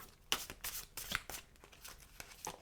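Tarot cards being shuffled and drawn, a run of quick papery riffles and slaps in uneven bursts, close and fairly quiet, with no talking.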